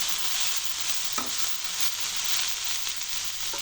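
Potato and beans fry in a pan over low heat, a continuous bright sizzle with occasional scraping knocks from stirring, fairly close and steady throughout.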